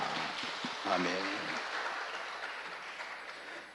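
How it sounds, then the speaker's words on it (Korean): Congregation applauding during a Sunday service at Incheon Gojan Church: steady, dense clapping fills the whole stretch, while a single voice briefly speaks over it near the start. "박수로 하나님께 영광 돌립니다."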